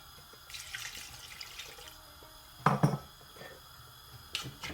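Water poured into a cooking pot while making an arbi keema curry on a gas flame: a soft splashing trickle, then two louder sloshing bursts near the middle and a brief splash at the end, fairly quiet with no talking.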